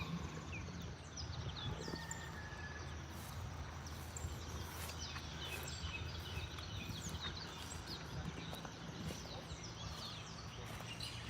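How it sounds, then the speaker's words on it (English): Birds singing outdoors on the Big Island of Hawaii beneath ironwood and banyan trees, many thin chirps and trills scattered over a steady bed of outdoor noise and insect hum, with no talk. "So peaceful with all the birds. Can you guys hear the birds?"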